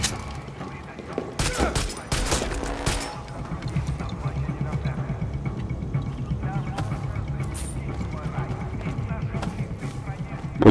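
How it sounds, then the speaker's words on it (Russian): Enemy gunfire at close range in the video game Far Cry 6, a loud burst of rapid shots at the start followed by a dense, continuous rattle of action sounds and noise that fills the rest of the stretch. "Подбегает вплотную и стреляет."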